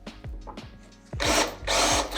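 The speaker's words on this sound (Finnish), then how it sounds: "Niin joutui noin kaikki niitit poraamaan siitä auki" A power drill boring out pull rivets holding runners on an old fiberglass sled whines up in short bursts, then grinds loudly through metal in two longer pushes, close by.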